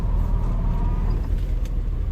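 A Renault 10 car reversing uphill gives off a steady low engine rumble and road noise, close and continuous over a couple of seconds.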